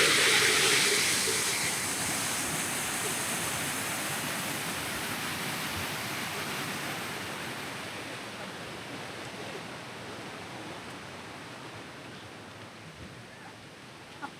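River water rushes and gurgles near waterfalls at Amboli Ghat in the monsoon, a broad, continuous roar that eases slightly over time, with no voices.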